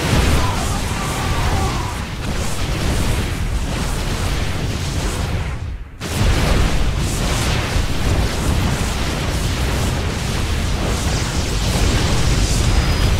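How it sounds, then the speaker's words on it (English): Photon cannons in StarCraft II fire and explode during a ladder match, making a dense, continuous wash of blasts and impacts that cuts out for a split second midway and then resumes just as loudly. "I'm taking a lot of damage from these photon cannons"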